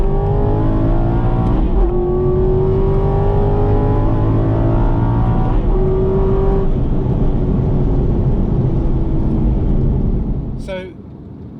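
Aston Martin V8 Vantage engine running steadily and loud, with tone shifts from jerky gear changes on a standard clutch, the drone fading near the end; people talk over it.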